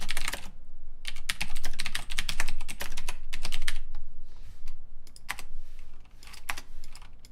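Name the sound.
typing on a silent computer keyboard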